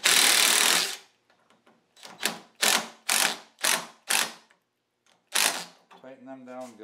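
Speed driver ratcheting in a rapid series of about six sharp, loud bursts to tighten nylock nuts on a DIY quarter-wave CB radio antenna, with a short pause midway and a voice speaking briefly at the end.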